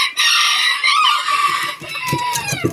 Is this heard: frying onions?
no